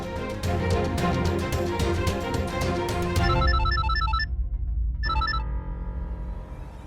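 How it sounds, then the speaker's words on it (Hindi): A telephone rings unanswered, loud repeated electronic ring tones pulsing in a steady rhythm, then a pause and one more short burst of ringing. "फोन उठा"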